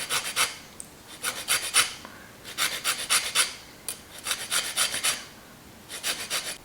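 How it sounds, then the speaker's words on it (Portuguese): Lemon zest is grated for bread dough in a home kitchen: rapid bursts of rasping strokes in regular rhythm, close and crisp, with brief pauses between the bursts. "vou então usar aqui a raspa para aromatizar"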